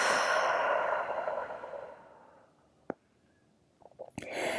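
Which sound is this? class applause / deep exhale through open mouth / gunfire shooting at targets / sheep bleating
deep exhale through open mouth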